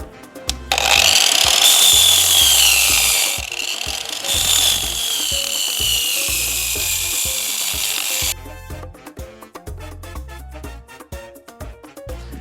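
An angle grinder with a 120-grit flap disc whines loudly against the skin of foot heels for several seconds, its pitch shifting as pressure changes, then cuts out, leaving quieter background sounds.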